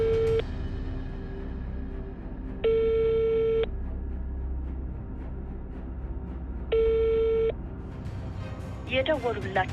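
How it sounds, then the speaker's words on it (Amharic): A telephone line gives repeated electronic tones that go unanswered, steady bursts with pauses between them and a short warbling tone at the end, heard under a low background hum. "የደወሉላቸው ደንበኛ ስልክ አይመልስም።"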